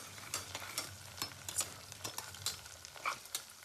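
Sliced onion and green chilies fry in oil in a pan, making a soft steady sizzle broken by stirring scrapes and small clinks, quiet and close, with no voices.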